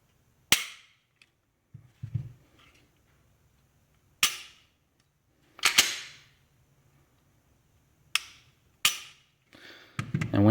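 A factory Glock 19 trigger is dry-fired, giving about six sharp, close clicks spaced irregularly, with quiet handling noise between them.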